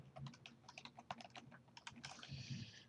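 Quick, light keystrokes on a computer keyboard patter in an uneven run of soft clicks, close and quiet, with no one talking.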